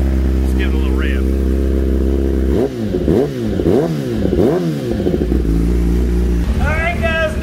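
A 2021 Kawasaki ZX-10R sport motorcycle with a Brock's Performance exhaust idles roughly, then revs up and down several times in quick repeated bursts, loud and close.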